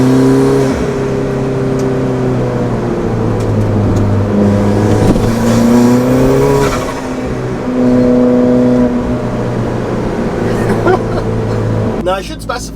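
A modified Alfa Romeo 4C engine drones steadily while driving, a loud, close cabin hum with shifting pitch as revs rise and fall, with someone talking over it throughout.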